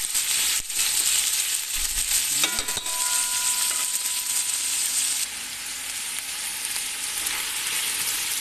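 Chicken frying in a pan, a steady loud sizzle throughout with brief scraping and clinking of a utensil as it is stirred, no talking.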